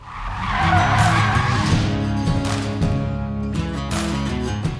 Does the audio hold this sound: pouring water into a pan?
no